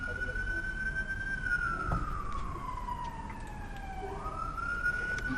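An ambulance siren wails slowly up and down at a moderate distance over steady traffic rumble, with faint clicks and noise around it.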